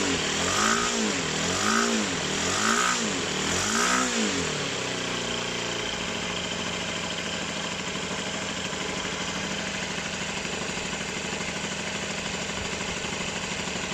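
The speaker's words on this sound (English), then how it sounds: "Here we go, this is the engine that's going to go into the Falcon." A small internal-combustion model aircraft engine for a Ben Buckle Falcon runs loudly and steadily, with a few rhythmic surging blips at the start before settling into a constant buzzing drone.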